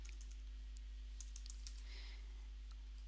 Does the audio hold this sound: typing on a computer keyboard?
yes